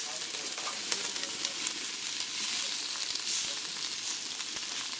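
Tortillas fry in a hot pan for pork chop tacos, giving a steady, dense sizzle that holds at an even level throughout with no talking.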